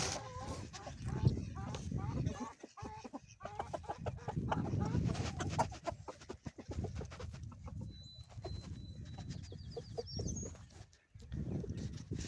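Chickens in a straw-lined, tarp-covered pen on a windy homestead cluck and call repeatedly at close range, a busy stretch of overlapping clucks with some wind.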